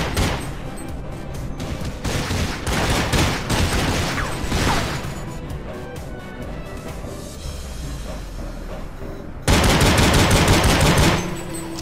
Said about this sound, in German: Ich höre auch schon Geschüsse hier.